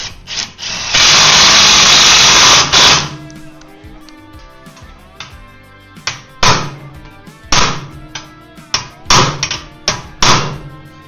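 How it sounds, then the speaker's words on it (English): A manual impact driver struck with a hammer on aftermarket lower frame rail bolts of a YFZ450R ATV; a long loud grinding burst first, then a series of sharp metallic whacks spaced irregularly, close and loud. "Probably go back around with my manual impact driver and just give these all like one whack."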